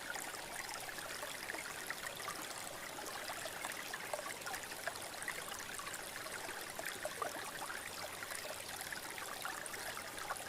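A flowing river stream rushes and trickles steadily, a continuous broad wash of water noise with small bubbling splashes, close and even throughout with no voices.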